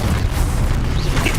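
Exposo explosion spell in Hogwarts Legacy lets out a deep, rumbling boom that fills the brief moment, heavy and sustained with a roaring low end and no voices.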